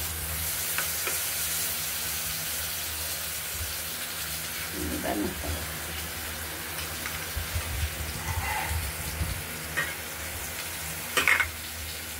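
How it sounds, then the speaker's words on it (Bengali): Nigella seeds with dried red chillies and bay leaves frying in oil give a soft continuous sizzle with occasional stirring scrapes and light pops, fairly quiet and close, with brief voice sounds in places. "আর কালো জিরে। একটু হালকা করে ভেজে নেব।"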